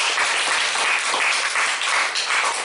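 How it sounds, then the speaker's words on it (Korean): A church congregation at a Sunday worship service claps together, producing a dense, loud, sustained round of applause with no pauses. "여러분, 우리 젊은이 교회도 한번 박수 쳐주세요."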